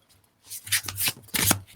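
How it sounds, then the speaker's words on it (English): Tarot cards riffle and slap together in two short brisk bursts of papery shuffling, close and fairly loud. "I just want to shuffle them just a little bit more."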